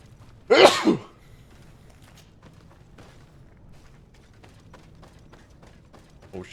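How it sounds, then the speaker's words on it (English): A single loud sneeze from a male game character in the fantasy RPG GreedFall, bursting out near the start and then fading into quiet ambient game sound. "Got here just in time for my sneeze. My fatherly sneeze."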